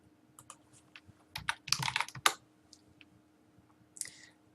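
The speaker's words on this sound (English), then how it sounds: "After typing the common name into the search bar" Keys clatter on a computer keyboard in quick bursts of clicks, close and fairly quiet, with a denser flurry midway and a brief burst near the end.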